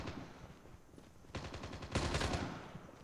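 Automatic gunfire in Call of Duty Mobile, fairly quiet, with a short burst of rapid shots followed by a louder, denser volley near the end.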